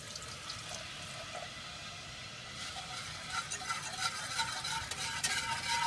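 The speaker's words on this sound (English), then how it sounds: "adding the stock 1 cup at a time" Stock is poured into savory homemade gravy and stirred, a soft liquid swish and bubbling that grows busier and louder toward the end, with no talking.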